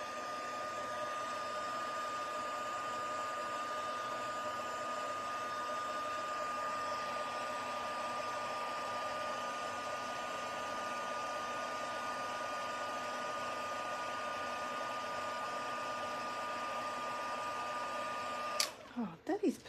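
A heat gun blows steadily for nearly twenty seconds, melting embossing powder on a plastic papercraft sled piece, a loud constant whirring hum with a faint whine that cuts off abruptly near the end.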